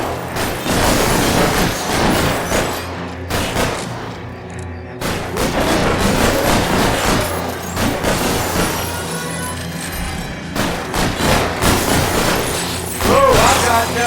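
Rapid bursts of gunfire crack repeatedly in the video game L.A. Noire, loud sharp shots in clusters with brief pauses and echoing booms, while a person talks over the action.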